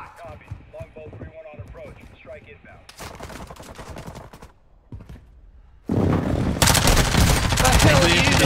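Airstrike explosions in a video game arrive as a sudden loud, sustained roar of blasts after a stretch of game sounds and voices talking.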